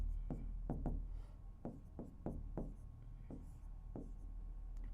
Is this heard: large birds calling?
no